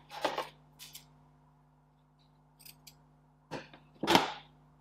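Tape for wrapping dynamo field coils is pulled off the roll and cut off. Several short, sharp rips and snips come close up in a quiet room, with pauses between them.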